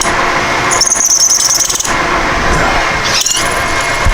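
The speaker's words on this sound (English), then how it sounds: "I'm drilling the socket right now" A power drill bores through the socket of a tap handle, a loud, steady grinding whine with high squealing bursts as the bit bites into the metal, close up.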